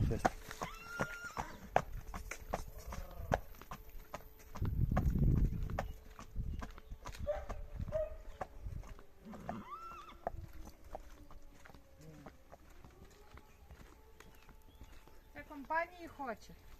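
A massive Belgian draft mare's hooves clop nearby while a loud whinny rises in the middle, set among ongoing conversation from people standing close.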